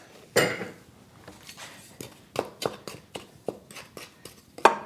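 Baking powder and salt are stirred in a bowl, giving a series of light, irregular clinks and scrapes of utensil against the bowl, fairly close and quiet, with no talk.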